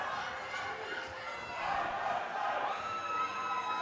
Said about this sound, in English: I'm hearing some Aussies cheering for their team right now.